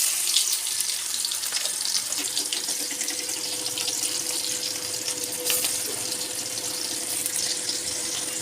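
Onion added to hot oil with cumin for a simple chicken dish gives a steady, loud broadband sizzle that runs continuously and alone.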